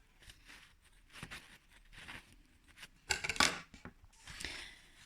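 Scissors snip small cuts into the fabric seam allowance around the curves of a handmade lavender bag, giving a few quiet scattered clicks followed by a louder close burst of rapid snips, with no talking.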